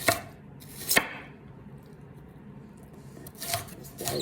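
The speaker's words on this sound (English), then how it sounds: "So I'm just dicing this up like this." A knife dices an onion on a board, with two crisp, close chops, a quiet stretch and then another pair of cuts, all fairly loud against a soft room background.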